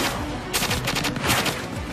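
Gunfire from an anime battle scene, a dense run of rapid shots filling the whole moment, loud and close with a steady crackling volley.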